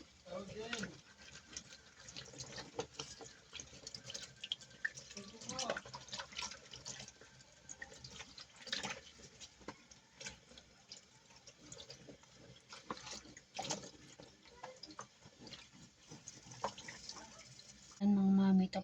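Banana leaves are rinsed under a running kitchen tap, with water splashing and trickling steadily for a long stretch and irregular handling noises; a voice speaks over it at times.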